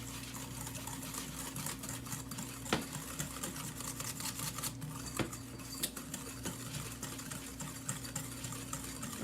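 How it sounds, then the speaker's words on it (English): A whisk beats ingredients in a bowl, a quiet rapid scraping and clicking that keeps on continuously. "hand mixer, or you can use a whisk. I'm using a whisk."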